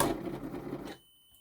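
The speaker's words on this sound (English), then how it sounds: "just nice, neat top stitch with a straight stitch just the whole way down" A sewing machine top stitches a straight line along a small handbag handle, a quick close mechanical whirr that cuts off abruptly after about a second, with no talking.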